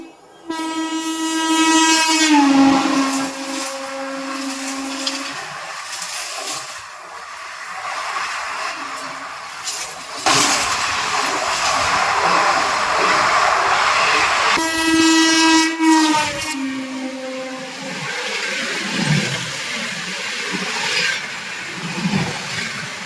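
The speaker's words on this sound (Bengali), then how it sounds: "ট্রেন এভাবে আমাদের এগিয়ে যাবে" A local train on the Howrah to Puri run rolls along loudly, sounding long horn blasts at the start and again midway, with a rushing rumble and rattle of the carriages in between.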